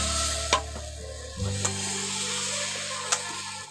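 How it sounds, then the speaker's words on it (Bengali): Patisapta pitha batter hits a hot tawa and sizzles steadily up close, with a few sharp scrapes and taps of a spoon spreading it. "এবার এর মধ্যে আমি এখন ব্যাটারটা দিয়ে দিচ্ছি।"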